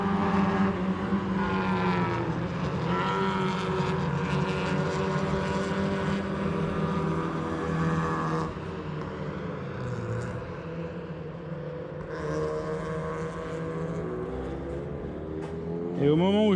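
Mazda MX-5 roadster race cars with free-flowing exhausts at the Nogaro circuit, a continuous loud engine drone with shifting pitch, heard steadily throughout.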